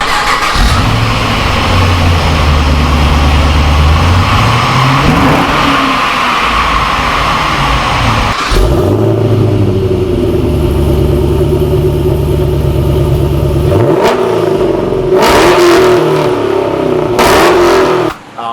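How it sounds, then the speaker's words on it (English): Holden Ute engine cranks and fires, then the exhaust revs hard in repeated loud surges and drops, a deep rumbling tone rising and falling close by with no talking. "And the exhaust sounds amazing."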